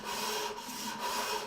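Hand sanding across the top of a wooden dovetail box, a steady, close scratchy rubbing that runs continuously with slight rhythmic swells as the strokes go back and forth.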